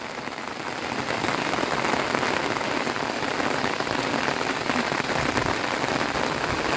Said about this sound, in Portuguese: A chuva está caindo, olha. Muita chuva nesse momento.